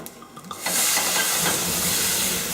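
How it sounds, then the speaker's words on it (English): Whiskey hits a hot pan for deglazing during a peppersteak pizza topping prep, bursting into a loud, steady sizzling hiss that starts abruptly and holds, close up with no talk. "So we're going to deglaze the pan with a bit of whiskey."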